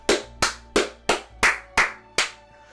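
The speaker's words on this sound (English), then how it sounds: "let's get a round of applause for Joshua Van!" Sharp, evenly spaced hand claps, about seven in under three seconds, ring out alone and close at an MMA award show honoring Fighter of the Year Joshua Van.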